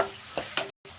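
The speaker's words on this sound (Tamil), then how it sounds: "அதுலேயே நம்ம வெங்காயம், வெள்ளைப்பூண்டு, கருவேப்பிலை இதெல்லாம் ஆட் பண்ணி நல்லா வணக்கி விட்டுக்கலாம்." Onion, garlic and curry leaves sauté in hot oil for a brinjal kara kuzhambu, giving a steady close sizzle with a couple of brief stirring scrapes before a short cut to silence.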